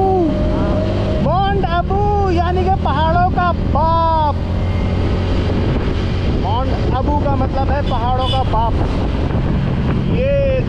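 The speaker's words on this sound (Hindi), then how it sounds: "हमने स्पीड कर दी है कम ताकि हवा की आवाज़ हो जाए थोड़ी कम" Steady roaring wind buffets the microphone on a moving boat, slowed down to cut the wind noise, with an engine drone underneath and people talking over it.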